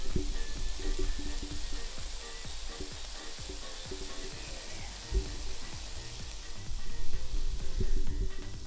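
Bacon frying in a pan during a cooking livestream: continuous close, loud sizzling and crackling with steady spitting pops throughout, and no talk over it.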